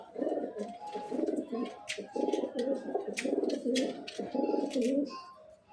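Close, repeated pigeon cooing with a soft rhythmic throaty pulse comes from birds in a home loft, running almost continuously with short gaps and faint background clatter.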